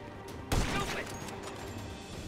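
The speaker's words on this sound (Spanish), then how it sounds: "Simplemente están llegando los balazos." Gunfire in GTA 5 during a zombie apocalypse battle against the army: one sharp, fairly loud shot burst, followed by a steady wash of distant combat noise, all rather quiet.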